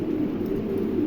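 A pair of black Pomeranian pigeons offered for sale, with a low, soft cooing that hums on steadily throughout, close by and unaccompanied by speech.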